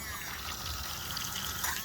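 Thetford toilet flush pump submerged in a small bucket, water trickling and splashing steadily as it pumps out, fairly quiet and continuous.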